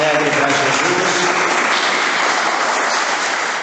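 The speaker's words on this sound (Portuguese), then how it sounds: "dê uma salva de palmas bem alegre para Jesus." Church congregation clapping in joyful applause, a loud, steady wash of many hands throughout.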